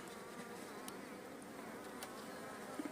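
Honeybees swarm around an opened beehive, where Italian queens were recently introduced, giving a steady, dense buzzing hum that stays level throughout with no talking.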